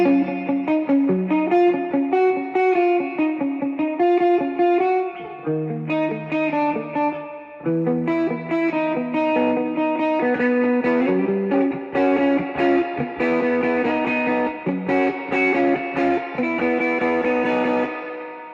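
An electric guitar played through a 1978 Fender Deluxe Reverb amplifier sounds loud and full, with strummed chords and picked notes carrying slight grit and reverb, continuing steadily with a short pause midway, with no talking.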